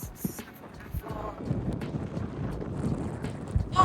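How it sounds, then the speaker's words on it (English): Wind buffets the microphone in a steady low rumble, gusting louder toward the end, with faint rustling and a few soft knocks, outdoors on rocks by a desert walk trail in Western Australia. "Oh, it's pretty windy."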